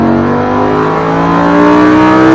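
A Lamborghini accelerates hard on a race track, its engine roaring loud and close with a steadily rising pitch and no voices.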